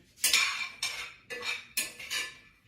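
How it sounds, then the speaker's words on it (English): Pecans toast in a dry pan while a utensil stirs them, making about five distinct scraping, clattering strokes close up. "Let me stir my pecans again."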